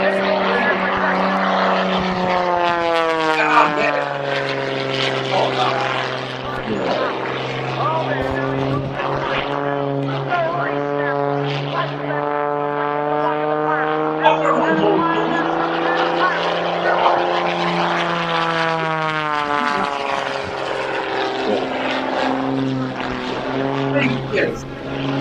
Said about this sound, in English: He's pushing forward on the stick as he comes down at 190, 200 miles an hour.